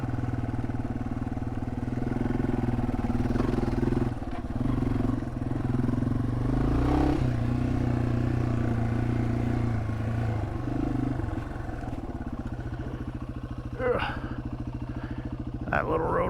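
Motorcycle riding along an Ozarks trail, its engine running steadily and close throughout with a few shifts in pitch, joined by light clatter near the end.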